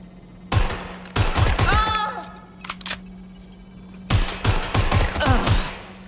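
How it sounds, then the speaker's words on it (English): Rapid bursts of gunfire in the game Watch Dogs: Legion rattle in two volleys with a pause between, sharp and loud, over a low electronic hum. "We have gunfire!"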